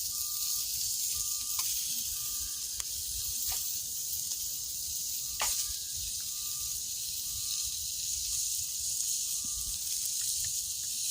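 Burgers searing over open flames on a fire stick cooker outdoors at night, a soft steady hiss and sizzle close by with faint intermittent ticks and insect-like chirps, no talking.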